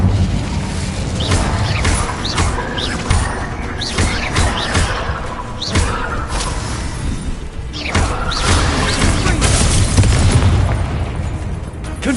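Spell blasts in the Harry Potter game Hogwarts Legacy, repeated bursting explosions and crashing pops in quick succession over a dense, loud combat bed, with sharp impacts recurring throughout.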